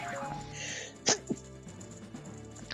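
A single quick sneeze, fairly faint and off to one side, cuts through steady low background hum partway through.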